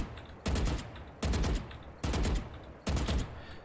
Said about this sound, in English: bursting, and that is where you shoot 2 to 3 bullets at a time